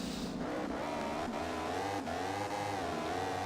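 Simulated motorbike engine from the MotoGP 15 racing game, revving hard and climbing through gears, with a steady loud whine rising and dipping continuously.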